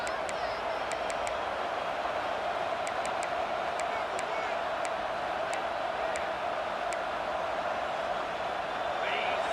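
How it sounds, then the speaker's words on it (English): Steady roar of a large stadium crowd at a Clemson vs Florida State college football game, a constant wash of noise with faint sharp accents scattered through it. "this crowd is fired up. Listen to this noise here."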